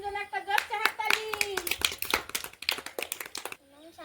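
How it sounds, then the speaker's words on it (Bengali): A crowd claps loudly for a young boy about to recite a rhyme, with a burst of dense, irregular hand claps lasting several seconds that then fade away, and a voice speaking briefly over them. "শান্তনুর জন্য একটা জোরছে হাততালি।"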